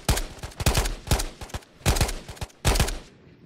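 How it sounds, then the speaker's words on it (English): Four bursts of rapid video game gunfire crack loudly one after another, each a quick volley of sharp shots with brief pauses between. "Gunshots. Left."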